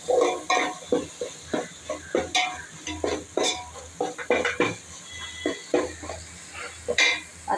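Ginger garlic paste and green chillies sauté in a pan while a spatula scrapes and taps in a quick, irregular rhythm over a low sizzle, close and clear.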